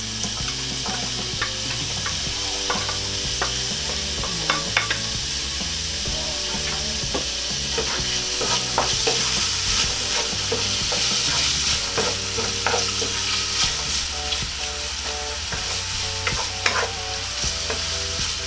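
Onions and garlic sautéing in a pan for a beef and shiitake mushroom stew, a steady close sizzle with repeated scrape-and-clatter stirring strokes running throughout, no voices.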